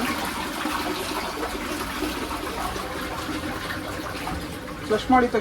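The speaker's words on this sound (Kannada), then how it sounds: "ಇಲ್ಲಿ ವಾಟರ್ ಮತ್ತೆ ಯಾವ ಥರ ಫಿಲ್ ಆಗ್ತಿದೆ ನೋಡಿ" Water rushes and gurgles steadily as a toilet cistern refills after a flush in a small Japanese apartment, close by, with a voice speaking over it.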